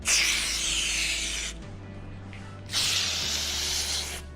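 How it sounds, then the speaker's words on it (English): Two bursts of aerosol lubricant spraying onto a car window regulator, hissing close up, each lasting over a second, separated by a short pause with a low hum underneath. "Just give it a good old spray."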